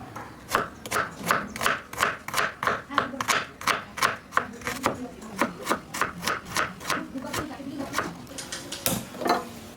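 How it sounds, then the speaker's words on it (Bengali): A knife chops onion on a board in quick, regular strokes, each a crisp close tap, keeping up a steady rhythm throughout. "এবার পেঁয়াজটাকে কেটে নেব।"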